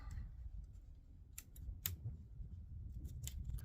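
Scissors cut plastic bottle cordage tags, giving a few quiet, sharp snips against a faint background hiss.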